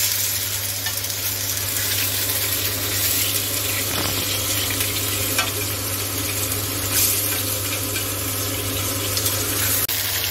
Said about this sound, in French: Mais d'abord, je vais faire revenir ma viande